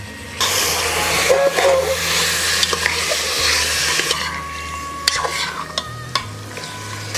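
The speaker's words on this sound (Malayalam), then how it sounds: "ഈ പിങ്ക് കളർ മാറി ഒന്ന് വെള്ള കളറാവുന്നിടം വരെ ഈ ചിക്കനൊന്ന് ഇങ്ങനെ ഇളക്കി കൊടുക്കണം" Chicken for Dindigul thalappakatti biryani is stirred in a pot over a loud, steady sizzling hiss, with scraping and knocking from the spoon and a few clinks near the end, and no voices are heard.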